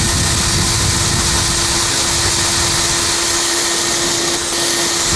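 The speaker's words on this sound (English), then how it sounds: "Now I am drilling this my bolt away a little bit bigger." A drill runs steadily, boring out a broken bolt stuck in a deep recessed hole, a loud continuous whirring motor hum with a fixed tone that holds for the whole stretch without pause.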